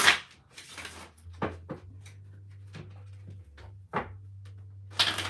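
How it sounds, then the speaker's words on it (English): Tarot cards are shuffled by hand during a live reading, with soft papery riffles and sliding bursts recurring irregularly over a steady low hum. There is no talk. "I'm going to shuffle these actually."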